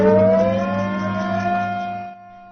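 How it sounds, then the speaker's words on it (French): An air raid siren wails across Shenyang city at a commemoration of the 1931 Japanese invasion, a loud, steady, sustained tone with a slight upward bend that cuts off near the end. "Les sirènes résonnent dans la ville de Shenyang pour rappeler aux gens les nombreuses batailles féroces qui ont fait des millions de morts."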